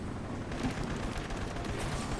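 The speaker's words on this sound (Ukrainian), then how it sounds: "Хтось по мені стріляє звідкись." Gunfire in the video game Crysis in a tropical jungle setting, a dense, steady wash of distant shots and crackle over the whole stretch, with no clear single report standing out.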